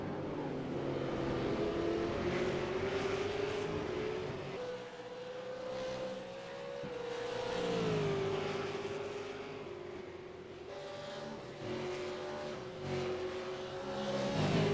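V8 Supercar race car engines in a racing video game at Interlagos, a steady loud engine drone with pitch sweeping up and down as the cars accelerate and shift along the track, continuous throughout.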